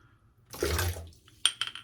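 Water is poured into a bowl to soak a boar-bristle shaving brush: one short, splashy pour of about half a second, followed by a few light clinks of the bowl, close and quiet.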